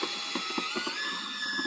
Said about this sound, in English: now what I like to do is I like to go ahead and use a little paint mixer here.